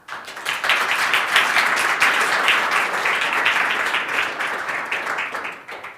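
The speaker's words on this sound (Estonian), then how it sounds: "aplaus Kärdile" Audience applause for a speaker named Kärt at the end of a talk on turning waste into energy. Dense, steady clapping from a room full of people lasts about six seconds, then tapers off at the end.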